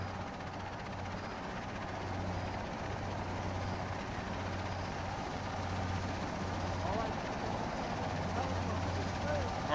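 Military helicopters in ARMA 3, in a 1970 Vietnam-era mod, give off a steady low rotor drone and engine whine that sit under the whole stretch while players talk over radio.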